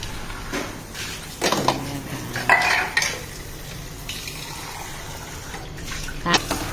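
Dishes and utensils being washed with running water and dish soap in a home kitchen, with scattered clinks and splashing bursts, fairly close, between quieter stretches.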